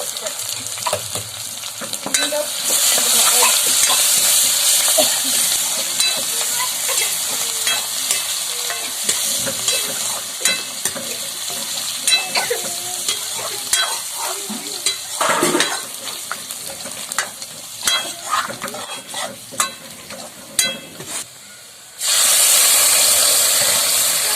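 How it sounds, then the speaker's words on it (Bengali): Dal being tempered in a pan with bay leaves, chopped garlic, onion and cumin at an outdoor picnic. A loud, continuous sizzle and hiss of frying runs throughout, with occasional stirring scrapes, and it drops away briefly near the end. "এখন আমি ডালটা সম্বারা দিয়ে নিব"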